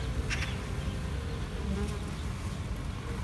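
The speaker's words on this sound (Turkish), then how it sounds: "Arılar, karıncalar, böcekler inanılmaz bayram ediyor arkadaşlar." Steady buzzing of bees droning continuously at moderate volume, with a few louder passes close by and a soft ambient rumble beneath.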